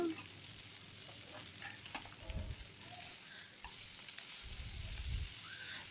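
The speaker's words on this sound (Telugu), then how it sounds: "మిగిలిన ముక్కలు కూడా ఈ విధంగానే వేపేసుకుందామండి" Pieces of sea fish coated in masala fry steadily in hot oil, a continuous crackling sizzle with a couple of louder bursts as pieces are turned, close and alone with no talk.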